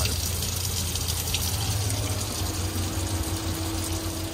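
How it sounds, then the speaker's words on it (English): A sparkling water public fountain near the Palazzo Vecchio in Florence runs in a steady, fairly loud gushing stream, with a faint low hum beneath the continuous splash. "one of them is a sparkling water fountain"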